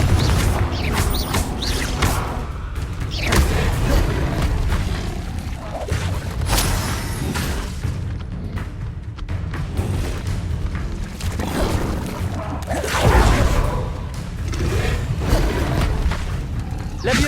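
A fiery Confringo spell blast cast during combat in Hogwarts Legacy on PS5, several booming impacts and whooshes layered over dense game effects and music, with spoken incantations throughout.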